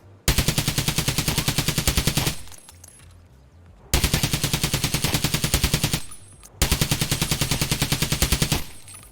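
Three loud, close bursts of full-auto fire from an SA58 battle rifle in Escape from Tarkov, each about two seconds of rapid, evenly spaced shots separated by short pauses.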